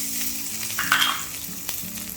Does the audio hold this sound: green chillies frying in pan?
yes